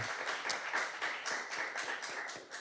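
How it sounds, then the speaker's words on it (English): Audience applause at a talk on being Black in America's schools, a steady dense patter of many hands clapping at moderate level for the whole stretch, with no speech over it. "Give him another round of applause."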